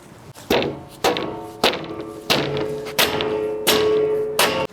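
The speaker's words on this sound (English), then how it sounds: "Hammer can fix this." A mallet pounds a homemade workbench with seven evenly spaced, solid thuds, each ringing out briefly before the next, loud and close.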